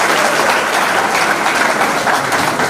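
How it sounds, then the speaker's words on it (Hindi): A crowd at an outdoor political rally claps loudly to welcome a former village head joining the party. The dense, steady applause fills the whole stretch with no pause. "आप लोग जोरदार ताली बजा करके स्वागत करिए।"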